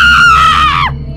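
A single loud, high-pitched scream held for about a second, then abruptly cut off as it falls away, close and intense, set in a spooky ghost story.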